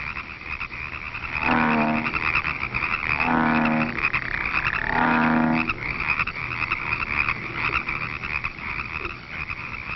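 Toads trill in a spring pond during mating season, three long resonant croaking bursts rising close and loud over a steady chorus of distant calls.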